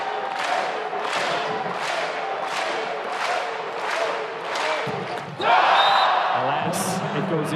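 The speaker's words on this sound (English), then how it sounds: "you can always hear the energy of the crowd rising whenever he checks in and retreats back to serve" A men's volleyball crowd at a Hawaii versus Stanford match swells in rhythmic waves of noise as a player goes back to serve, then surges into louder cheering near the end.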